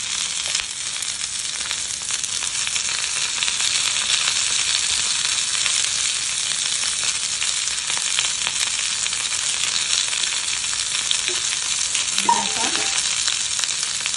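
Stuffed green chillies frying in oil, a loud, dense and steady hiss of sizzling that fills the whole span, with a faint clink near the end and no speech.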